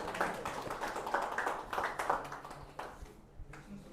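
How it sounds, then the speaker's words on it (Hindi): Audience at an RAS interview guidance seminar breaks into steady, moderately loud clapping for a student, with hand claps overlapping through most of the stretch before thinning out near the end. "रौनक के लिए एक बार जोरदार तालियां।"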